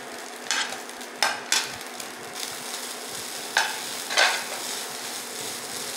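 Carrots being stirred in a pan: about five distinct scraping spatula strokes spaced irregularly over a faint, steady sizzle, close by, with no voices.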